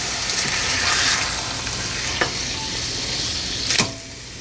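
A steak sears in a hot pan after being flipped, giving a steady, close, broadband sizzle that hisses continuously, with a brief sharper crackle near the end and no voices.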